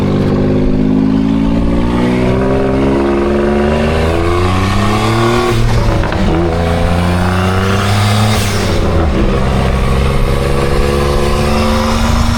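A motorcycle engine running steadily and loud throughout, its pitch rising and falling as the bike speeds up and eases off, with no voices heard.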